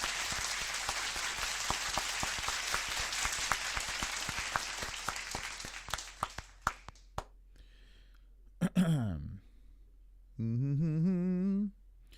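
Applause at a UFC Winnipeg event comes as dense clapping for about six seconds, then thins to scattered claps and stops. A short vocal sound follows, and near the end a voice hums or sings a wavering tone.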